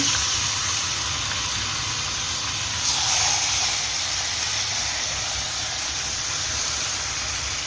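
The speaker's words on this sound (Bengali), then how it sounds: "এখানে ছাড়া হচ্ছে মাংস" About one and a half kilograms of meat hit a hot pan already holding chopped onion and whole green chillies, in a Bengali home kitchen. A loud, steady sizzling hiss fills the whole stretch, with a brief surge a few seconds in.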